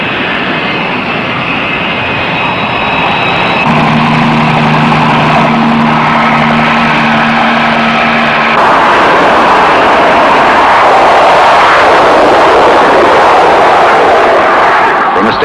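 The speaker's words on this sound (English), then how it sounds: "Standing start, 20 tons of aircraft reach flying speed in 2 seconds flat." A 20-ton jet aircraft is catapulted off an aircraft carrier flight deck, a loud sustained engine roar with steady tonal whine that surges and broadens into a heavy rushing blast toward the end.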